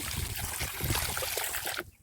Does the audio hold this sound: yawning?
no